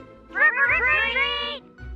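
A house cat left at home gives one long, drawn-out meow that rises and then wavers, loud and close, over a low background hum, with no talking.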